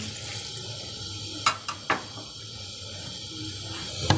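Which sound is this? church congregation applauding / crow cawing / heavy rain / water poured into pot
water poured into pot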